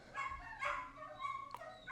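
Neighbours' dogs bark and yip repeatedly in the night, several short harmonic barks spaced roughly half a second apart, mid-distance and fairly clear against a low background hum.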